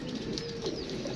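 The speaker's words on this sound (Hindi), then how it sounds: "वो 2 कबूतर जो है ना वो ऊपर से हमने उतार लिए हैं" Two pigeons coo softly and continuously at close range, a steady low murmuring with faint chirps, with no talking over them.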